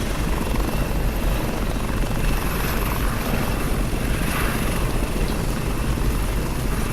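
In a CryEngine 3 game level, a helicopter flies with a loud, constant, close rotor and turbine drone. The rumble stays steady from start to finish with no speech.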